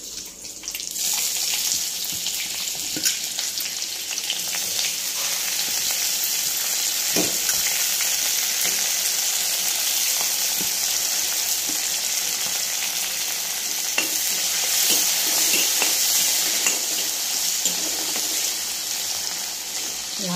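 Garlic and ginger fry with continuous loud sizzling in a hot pan, with occasional stirring scrapes and small pops throughout.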